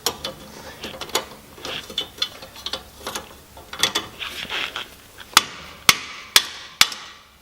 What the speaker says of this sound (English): we'll give it a go with a hammer.